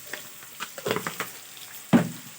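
Upma ingredients frying in a pan, soft sizzling with several stirring scrapes and spoon taps, the loudest clatter near the end, close and without talk.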